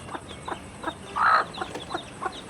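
A native hen calls among her chicks, giving a string of short, soft clucks at an even pace, with one louder, longer cluck in the middle, close and unaccompanied by talk.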